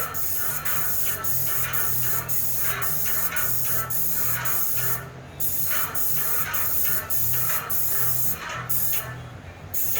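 A Tritech airless spray gun laying Renner wood coating onsite gives loud, close hissing bursts in a quick regular rhythm, with short pauses between passes as the gun sweeps up and down; no voices.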